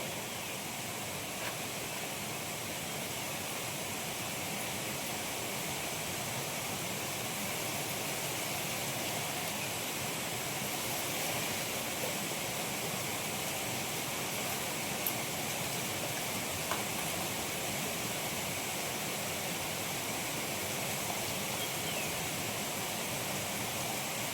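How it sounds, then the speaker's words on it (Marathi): Foraged wild greens washed under a running tap, a steady unbroken rush of water lasting the whole stretch at even loudness, with no voices. "आता ही भाजी मी स्वच्छ धुवून घेते"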